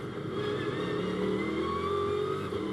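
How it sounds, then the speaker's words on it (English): A Ginetta GT race car accelerates out of the hairpin at Snetterton during a championship race, giving a loud, steady engine roar with rising pitch across the whole short stretch, with no speech. "the car's accelerating down towards turn 3"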